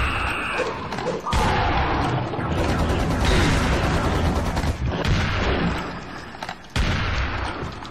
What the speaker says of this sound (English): I want to use my dual barrel shotgun